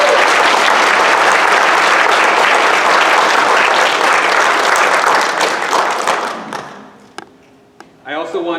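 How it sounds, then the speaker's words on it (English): Audience at a kindergarten graduation clapping loudly for several seconds, the applause thinning out toward the end before a voice begins speaking. "I want to give a round of applause for our little kindergartner, Masaki."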